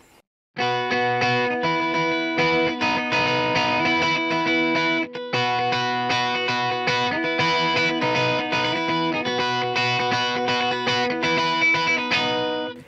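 An electric guitar plays a bright melodic phrase of chords on three strings, with chorus and distortion effects and no talking.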